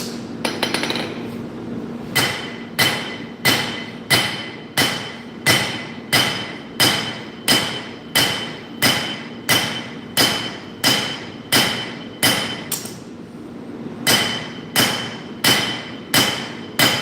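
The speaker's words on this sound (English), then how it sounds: "Something cool about forging on an anvil" A hammer forges a nakiri knife blade on an anvil, sharp ringing metallic strikes in a steady rhythm, about twenty blows with a short pause partway, loud and close, each leaving a brief clanging ring.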